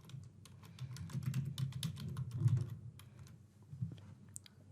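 Rapid typing on a computer keyboard as a workflow name is entered, a steady run of close, crisp key taps over a low room hum, with no talking.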